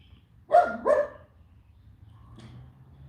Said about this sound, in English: Those dogs can make a noise.